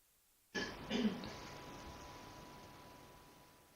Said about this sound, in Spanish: ya incluso te ha venido el carraspeo, que eso indica tensión